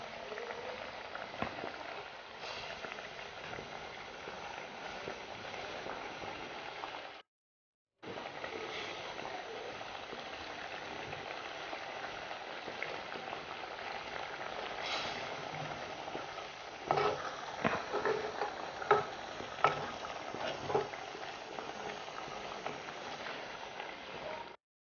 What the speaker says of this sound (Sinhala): මේක කෑලි කුඩු වෙන්නේ නැති වෙන්න පරිස්සමට තමයි දැන් හැඳි ගා ගන්න ඕනේ